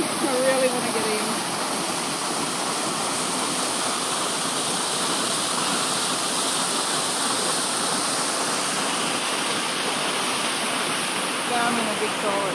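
Silverband Waterfalls pouring into a big gorge, a dense, steady roar of falling water close by that fills the whole stretch, with faint voices mixed in.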